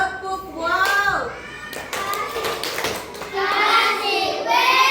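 A group of children claps along to a classroom clap chant, sharp bursts of hand claps mixed with chanting young voices, close and lively over about five seconds.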